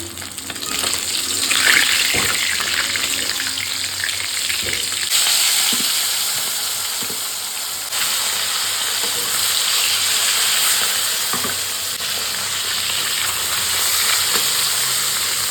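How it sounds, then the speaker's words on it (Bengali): Oil frying in a nonstick wok gives a steady, close sizzle that keeps going for the whole stretch, with occasional faint clinks and stirring sounds. "কড়াগুলো আমি ননস্টিক কড়াইয়ে ভাজবো"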